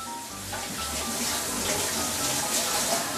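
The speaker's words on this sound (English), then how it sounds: "Then we're going to add in some water. This is the mushroom water." Mushroom soaking water is poured into a pan of chicken for steaming, a continuous splashing trickle that starts after a short pause and runs steadily, close and moderately quiet, with a faint sizzle beneath.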